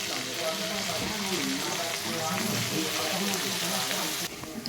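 Cut okra tipped into a hot pan and frying, a steady bright sizzle that holds evenly throughout, close and moderately loud, with faint stirring underneath.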